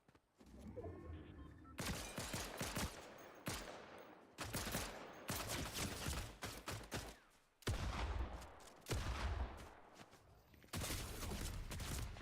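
Gunfire in Fortnite from a long-range gun, loud bursts of rapid shots coming in several clusters with brief gaps between them, no talking.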